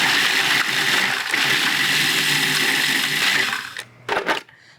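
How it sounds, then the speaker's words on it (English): A food processor grinds vanilla wafers into fine crumbs, a loud continuous whirring buzz that cuts off near the end, followed by a couple of brief rattling bursts. "This is made out of vanilla wafers, and you can grind these up in your food processor. Get them very fine."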